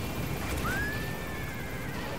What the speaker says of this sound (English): See you later, horse.